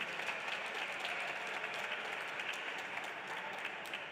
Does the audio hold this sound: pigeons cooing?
no